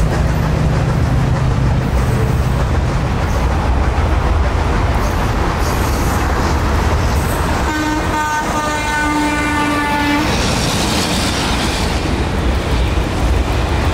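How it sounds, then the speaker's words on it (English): U.S. Sugar 148 steam excursion train crossing the Lake Placid bridge over US 27, a loud steady rumble of rolling cars with a long drawn-out horn blast sounding close near the middle. "148, gliding across the Welcome to Lake Placid Bridge over US 27."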